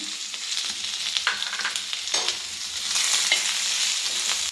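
Large chopped onion frying in hot oil while being stirred in a pan, a steady crackling sizzle broken by scraping stirs, close up with no talking.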